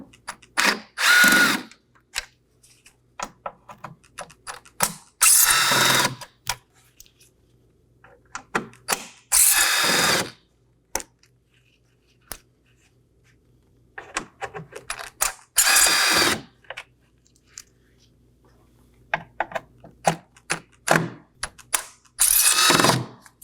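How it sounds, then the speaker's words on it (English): Power drill with a T15 Torx bit backing screws out of a Chevrolet Equinox grille, five loud whirring bursts separated by quiet gaps filled with ratcheting clicks and small handling noises, close by. "We're going to go ahead and remove those now. I'll be using a T15 Torx bit."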